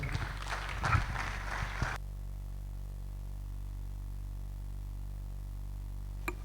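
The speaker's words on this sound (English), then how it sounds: "Keep clapping till he gets to his seat" Audience applause for a speaker at a hackathon conference, a dense burst of clapping for about two seconds that stops abruptly, leaving a low steady hum.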